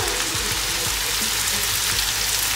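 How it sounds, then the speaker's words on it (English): Onion fries in hot palm oil alongside chicken, giving a steady, dense sizzle and crackle that stays even throughout, close up with no voices. "The onion is frying."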